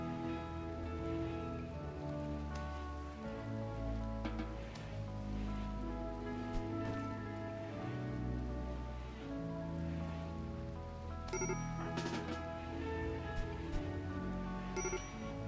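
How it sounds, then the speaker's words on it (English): Steady rain falling in the video game RimWorld, a continuous patter of drops running the whole stretch with sustained tonal game sounds layered over it. "The rain is kind of putting the fires out for me."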